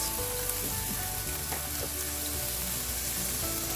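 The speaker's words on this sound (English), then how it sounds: "I'll start by frying this up with a little salt." Steady, dense sizzle of potatoes frying in hot oil with salt, loud and continuous throughout with occasional faint clinks, no talking.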